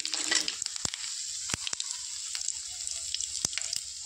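Nigella seeds and garam masala dropped into hot oil for a sweet olive pickle, crackling with a sharp sizzle at first, then a quieter hiss broken by several sharp pops and spoon clicks.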